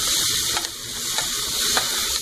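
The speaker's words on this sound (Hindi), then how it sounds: "सबको अच्छे से मिक्स कर लेंगे" Mixed vegetables with garam masala and kasuri methi are stirred in a hot pan, giving a steady sizzle with a few soft scraping strokes of the spoon, close and continuous.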